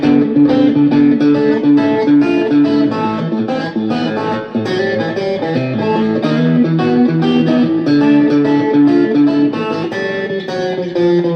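A purple sunburst cigar box guitar played with a metal slide through a Boss Micro Cube amp set to light distortion and reduced treble, sliding notes ringing loud and continuous in a bluesy, gritty tone.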